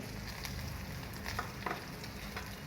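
Coarse chili and garlic paste hits a hot oiled pan, a steady close sizzle with soft stirring scrapes and a few brief crackles, no voices.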